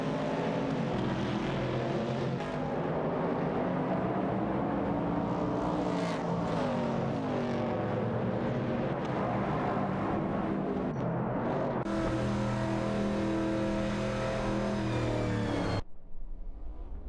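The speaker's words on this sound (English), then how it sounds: "both driving vintage muscle cars, a Pontiac Firebird 70 and a Chevrolet Camaro 70" Vintage muscle cars, a 1970 Pontiac Firebird and a 1970 Chevrolet Camaro, race in a video game, their engines roaring steadily with a loud sustained drone. The pitch shifts as they accelerate, with no talk.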